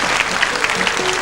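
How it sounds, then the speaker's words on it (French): Studio audience applause on a 1989 French television show, a steady dense wash of clapping hands filling the room, fairly loud and continuous throughout. "C'est l'occasion où jamais on applaudit Barthélemy"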